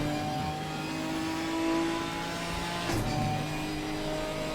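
Onboard Ginetta GT4 race car engine at Indy during a GT4 round, droning steadily at high revs throughout, with a brief gear-change dip near the three-second mark.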